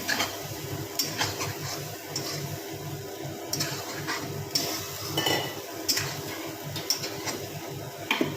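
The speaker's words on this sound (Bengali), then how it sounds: "এর মধ্যে আবার সবজিগুলো যেগুলো ভেজে রাখা হয়েছিল সেগুলো সব মেলাতে হবে।" Previously fried vegetables being stirred together in a pot for a Bengali fish shukto, with repeated scraping and clinking of a spoon against metal over a low background sizzle, close and moderately loud.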